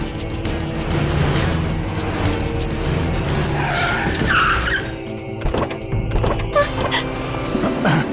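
A car's tires skid and squeal loudly as it pulls away in a Hindi film scene, a sustained screech with engine roar, followed by a few sharp knocks and bangs near the end.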